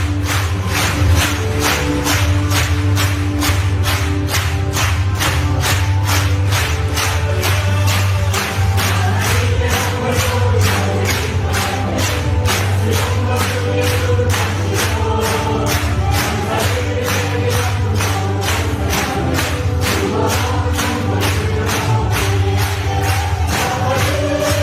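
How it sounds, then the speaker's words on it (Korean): A Korean church congregation at a 2022 national fasting prayer meeting claps together in a steady, even beat. The claps are loud and continuous and ring out over worship music. "우리도 여러분 한번 박수를 따라 해보시기 바랍니다"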